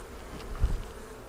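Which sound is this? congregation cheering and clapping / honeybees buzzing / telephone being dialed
honeybees buzzing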